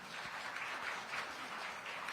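Audience applause at a round table on the NIH, faint and somewhat distant, a soft, steady patter of clapping from a modest crowd with no voices over it.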